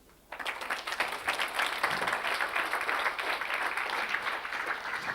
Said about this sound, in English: I think you should give them a clap.